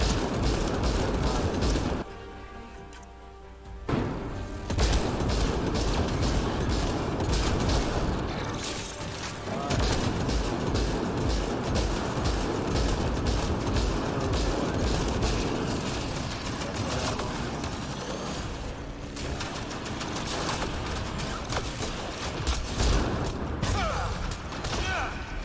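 Gunfire in Mass Effect: Andromeda, dense rapid bursts of shots and mechanical clatter continuing almost throughout, loud and close, with brief lulls.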